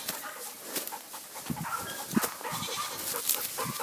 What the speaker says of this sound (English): Goat spotted.